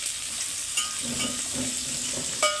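Onions frying in oil in a pan for chicken biryani, with mint added, giving a steady sizzle and occasional stirring scrapes and light clinks, close and moderately loud with no talking.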